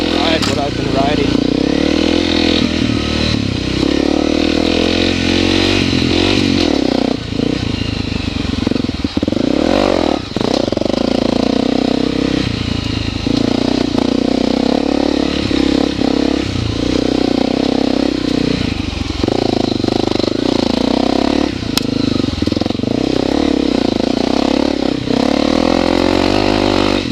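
Honda CRF250L dirt bike ridden on open public land, a steady loud single-cylinder engine drone that rises and falls with throttle, with clatter and scraping from the terrain, a rider talking over it throughout.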